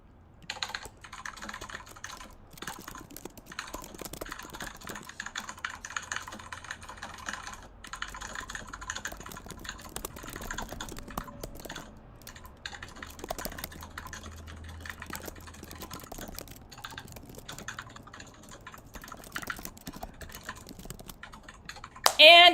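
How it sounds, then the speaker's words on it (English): Rapid typing on a computer keyboard, a dense stream of close, light key clicks continuing steadily for about twenty seconds with brief pauses, faint voices occasionally underneath. "you are typing up a storm, Sarah."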